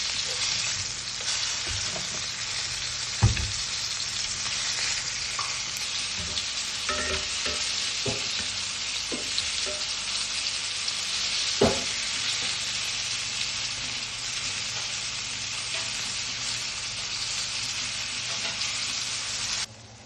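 Wahoo fish bites frying in hot oil, a steady dense sizzle and crackle lasting throughout, close up, with a few occasional clinks and knocks and no talking.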